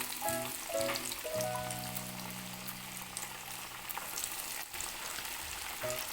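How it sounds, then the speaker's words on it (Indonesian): Steady, dense crackling and sizzling of crispy coated chicken deep frying in hot oil, close and fairly loud, with a few brief harmonic tones early on and no speech. "Lalu kita goreng kembali sisa ayamnya."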